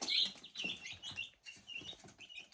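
Young chicks on a village farm peep and chirp busily while being fed grain, a dense, continuous high twittering with small rustles underneath, close and moderately soft.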